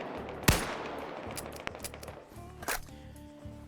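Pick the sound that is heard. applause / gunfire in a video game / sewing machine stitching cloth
gunfire in a video game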